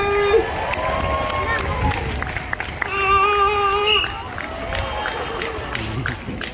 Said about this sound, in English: But how about another round of applause for Marco and Erie?